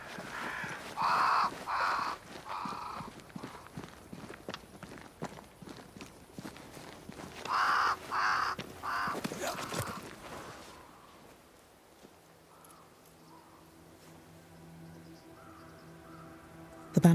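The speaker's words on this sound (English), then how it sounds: "Crows. They flock to that great tree up there." Crows caw in two loud bursts of harsh calls amid footsteps in the video game Banishers: Ghosts of New Eden, gathering near a great tree, before fading into quieter ambience.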